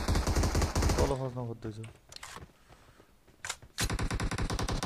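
Rapid automatic gunfire from a video game, dense repeating shots in bursts at the start and end with a quieter gap between, while players talk over it.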